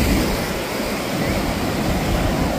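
Sea waves wash steadily onto the Visakhapatnam shore, a continuous broadband roar of surf with some wind, fairly loud and close, with no clear breaks.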